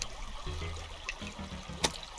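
Faint trickling water in a cave in the video game Terraria, a soft dribbling stream with a brief sharp splash near the end and no voice.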